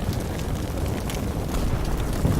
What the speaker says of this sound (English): that is a big explosion